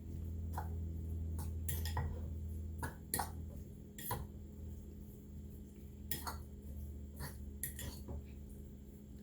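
Seasoned shrimp are mixed together in a bowl for curry shrimp in coconut milk, giving faint, repeated clinks and scrapes at an uneven pace over a low steady hum.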